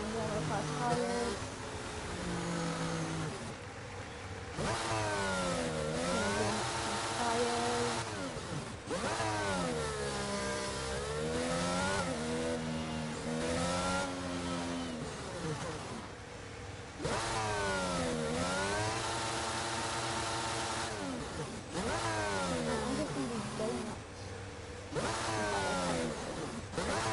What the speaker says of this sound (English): I'm just trying to do some donuts.